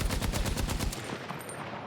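KTS gun in Battlefield 6 fired in a rapid automatic burst for about a second, loud and close, then cutting off into a brief fading tail.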